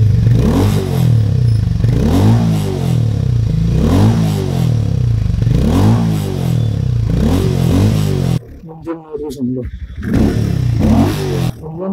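A Hero Mavrick 440 motorcycle engine is revved repeatedly in a regular rising-and-falling rhythm, loud and close, with brief sharper blips toward the end.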